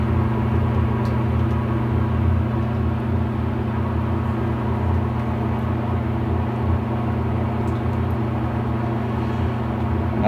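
A mixer stirs a bulk batch of sugar syrup with a steady, loud motor hum and low rumble that holds unchanged throughout, with no talking.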